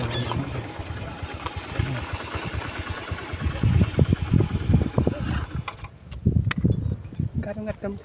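A Honda Vario carburetor scooter engine braking on a steep downhill road near Rowosari hill, its low engine drone pulsing steadily and close by, with people talking over it.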